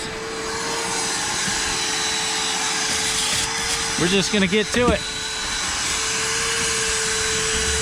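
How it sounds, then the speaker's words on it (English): A vacuum cleaner drones steadily with a constant whine while cleaning out a Honda CRX, while someone briefly speaks over it midway. "I'm not gonna bore you with all these vacuum noises."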